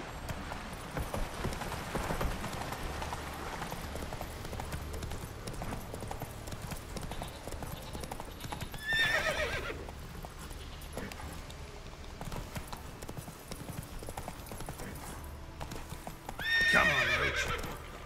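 Horse hooves clip-clop steadily in The Witcher 3 video game, with two neighs rising over the gait near the middle and the end; a voice talks faintly underneath.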